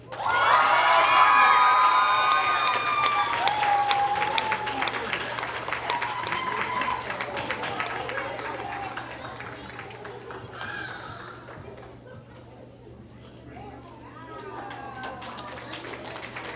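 An audience at a school reader's tea claps and cheers for students, a loud burst of applause with whoops and children's shouts that gradually tapers off.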